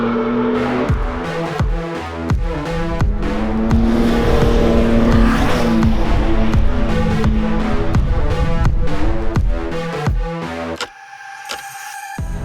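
A 2022 BMW M3 accelerating hard, its engine note climbing loud and close through several gear changes with brief dips between shifts, before cutting off sharply near the end.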